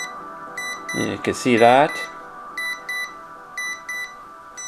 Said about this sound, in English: If you press this, it has a really cool screen. It has a lot of beeping.